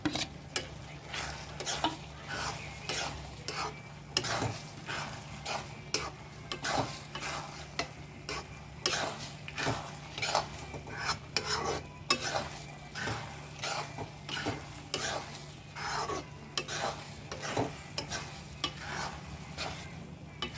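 Cashews and raisins stirred and fried in a pan for semiya kesari, a sweet vermicelli dish: steady sizzling under repeated scraping and clinking of a spoon against the pan, close and continuous with no talking.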